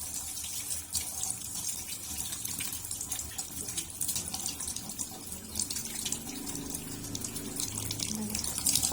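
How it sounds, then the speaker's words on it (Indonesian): Tap water runs steadily from a faucet into a sink as hands are rinsed, a continuous close splashing hiss with no talking. "dan bilas di bawah air mengalir."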